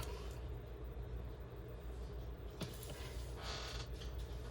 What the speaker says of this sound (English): Listen to this chair.